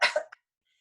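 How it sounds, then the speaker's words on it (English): A single deliberate, gentle cough done as a Pilates breathing exercise, a short close burst with a tiny second puff, followed by silence. "Put one hand in front of your mouth and gently cough"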